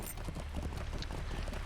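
Horse hooves clip-clopping at a steady trot in the fantasy MMO Lord of the Rings Online, set in the Shire, a continuous rhythmic patter heard alone at moderate level.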